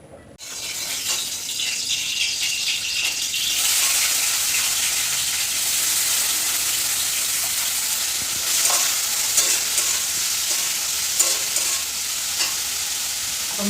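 Potato and bitter gourd slices frying in hot oil in a home kitchen, a loud continuous sizzle close by that swells after a brief quiet start, with occasional stirring clatter and no talk.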